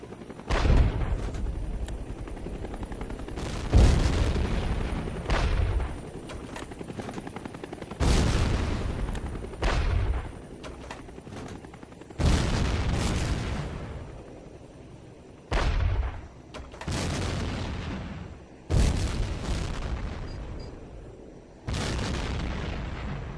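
Repeated gunfire and explosions from the jet combat video game Tom Clancy's HAWX 2, heavy booming blasts and bursts recurring every few seconds, loud and close with no talking.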